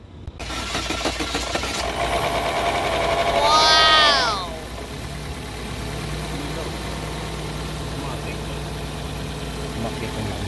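A Chevrolet Orlando 1.8 engine, just repaired after overheat damage, cranks with a whining starter, catches and settles into a steady idle, loud and close.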